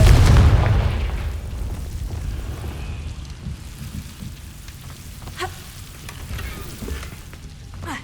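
Explosive blast spell in the video game Hogwarts Legacy: a loud booming detonation at the start that decays into a long crackling, debris-like rumble with scattered sharp pops.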